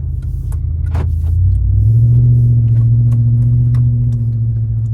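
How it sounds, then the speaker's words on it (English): A 2024 Ram Rebel 2500 pickup truck with an upgraded Adams driveshaft on a test drive, a loud steady engine and road rumble heard from inside the cab that swells slightly as it picks up speed. "I'm just taking it for a test drive."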